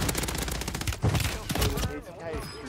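Gunfire in Warzone 3 rattles in dense rapid bursts, fairly loud and close, with shots overlapping and a brief heavier volley near the middle before thinning out; faint voices mix in toward the end.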